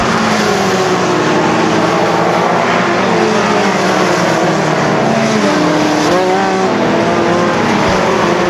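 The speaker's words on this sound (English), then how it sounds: "top 2 cars passing Lean" Sprint race cars on the final lap of a dirt track feature race roar loudly and continuously as the leading cars pass close by, their engines whining and shifting pitch.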